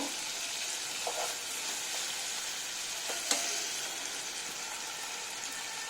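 Slit green chilies hit sliced ridge gourd frying in a pan, with coriander leaves scattered over the top. A steady hiss of sizzling runs throughout, broken by a couple of brief stirring clicks, with no speech.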